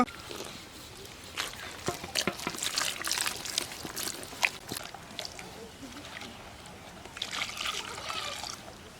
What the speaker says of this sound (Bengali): এই যে আমরা এখন একটু পরিমাণ মতো পানি দিব।